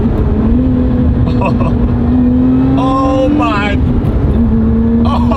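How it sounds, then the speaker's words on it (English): A supercharged British car accelerates, its engine note climbing steadily with a rising supercharger whine, loud and close from inside the cabin, while a person talks briefly over it. "You get to hear it, so you have supercharger whine noises"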